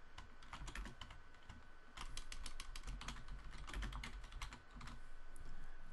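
Quiet, close typing on a computer keyboard, with quick bursts of key clicks and short pauses between them.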